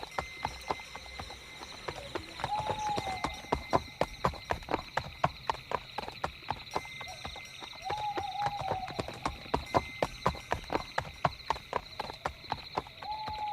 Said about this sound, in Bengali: হঠাৎ কানে আওয়াজ এলো যে এক গরুর গাড়ি পায়ের শব্দ।